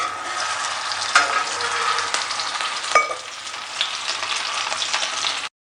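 Chapli kabab, a Peshawari patty of raw minced meat, sizzles loudly in hot oil as it is flipped, a steady close frying hiss with small spits and a couple of louder crackles, ending abruptly.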